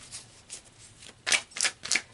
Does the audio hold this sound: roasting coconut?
no